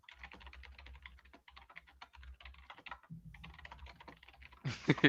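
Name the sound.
fast typing on a computer keyboard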